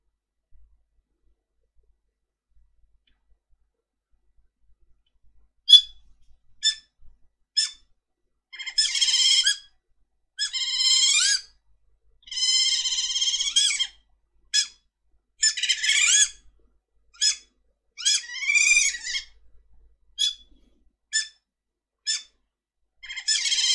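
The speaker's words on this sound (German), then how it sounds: "Das war im Prinzip der asiatische Kurzkrallenotter" Asian small-clawed otter calls played as a telephone hold sound, heard as a run of sharp, high chirps and squeaky squeals in short bursts, clean and alone after a few silent seconds.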